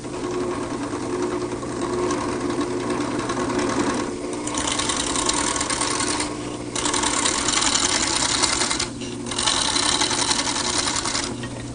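Wood lathe turning a workpiece for an outdoor planter finial, cut with a skew chisel and a gouge: steady whirring and scraping runs throughout, with three brief dips in loudness where the tool lifts off the wood.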